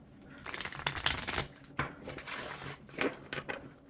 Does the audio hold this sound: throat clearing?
no